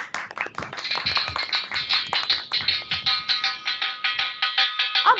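A school audience at a Hindi Diwas assembly claps in a fast, regular rhythm, sharp evenly spaced beats running the whole stretch alongside a sustained tonal sound.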